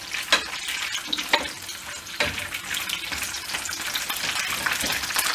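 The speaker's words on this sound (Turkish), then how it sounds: "Kızartmalar yerli yerine oturttuktan sonra kızarmasını bekliyoruz." Peppers frying in hot oil in a pan, a dense continuous sizzle with occasional louder crackles and stirring clatter, close and steady with no talk.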